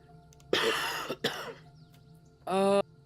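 Two harsh coughs in quick succession, then a short throat-clearing rasp a moment later, close and loud against a quiet background.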